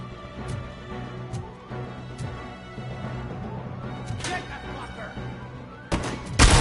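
Gunfire in the RoboCop Rogue City video game, with scattered sharp shots over a busy game mix and a loud burst at the end.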